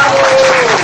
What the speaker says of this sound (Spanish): Para lo cual pedimos el más fuerte de los aplausos